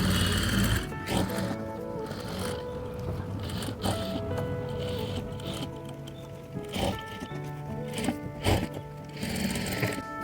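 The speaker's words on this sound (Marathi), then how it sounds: "हा जो ड्रॉ केलेला आहे आपण त्याच्यावर शिलाई मारूया." Sewing machine stitching along a drawn line on a blouse neckline, a steady mechanical whirr with a few short sharp bursts as the fabric is worked, heard alone at moderate level.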